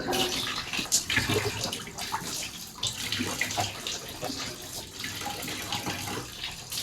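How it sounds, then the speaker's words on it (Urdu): Tap water runs and splashes steadily while the mouth is rinsed three times during wudu ablution, with irregular close splashes over the continuous flow and no talking. "ہاتھ دھلنے کے بعد 3 مرتبہ کلی کریں گے"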